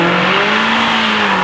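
A mid-engine Acura Integra with a swapped Volkswagen VR6 spins its wheels on throttle, giving a loud, steady, close engine drone with a low, even tone and a constant rush of tire and road noise throughout.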